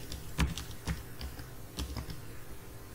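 Typing on a computer keyboard while entering a new Windows password, a few scattered keystrokes with short pauses between them, clearly audible over a quiet room with no talking.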